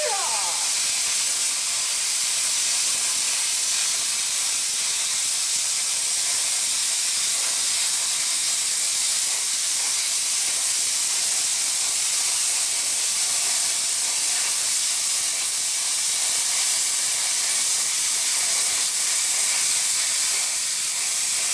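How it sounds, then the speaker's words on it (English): A TIG torch rigged for plasma cutting blasts compressed air through its nozzle while cutting metal, a loud steady roaring hiss that runs unbroken throughout, with no voices. "A TIG plasma cutter torch."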